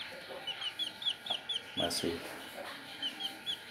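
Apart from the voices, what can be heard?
Brahma chicks clucking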